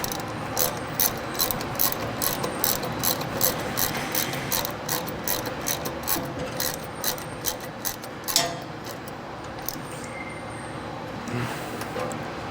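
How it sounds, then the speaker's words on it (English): A 1/4 inch Allen wrench tightens bolts on a Diedrich specialty coffee roaster during a bearing change, giving a close, steady run of rapid metallic ratcheting clicks that slows and stops near the end. "use your 1/4 inch Allen wrench."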